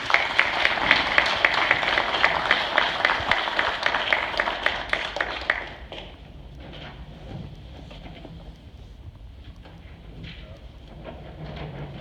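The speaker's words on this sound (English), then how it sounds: "So another round of applause for them, please." Applause at a Veterans Day ceremony, a dense burst of clapping for about six seconds that then falls away to a quiet room with faint scattered sounds.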